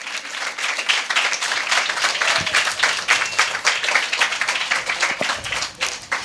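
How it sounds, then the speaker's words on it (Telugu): A church congregation applauds the Lord Jesus with loud, dense clapping from many hands, steady and close for several seconds, fading slightly at the end. "just claps to the lord Jesus"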